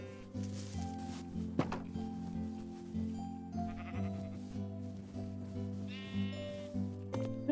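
Sheep in the video game Minecraft bleat repeatedly over steady background music, the calls close and distinct with short wavering cries spaced across the scene.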